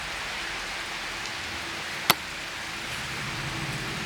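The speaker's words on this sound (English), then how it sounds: "with the amount of rain that's currently coming down" Heavy rain falls in a steady, broad hiss around an orchard, continuous and fairly loud, with one sharp tap partway through and no voices.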